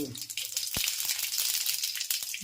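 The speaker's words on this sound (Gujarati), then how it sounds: "તેલ આવે એટલે વઘાર ચાલુ." Mustard seeds and cumin crackle and sizzle in hot oil for a tempering for methi curry, giving a dense hiss with sharp popping spurts close up, loud and continuous.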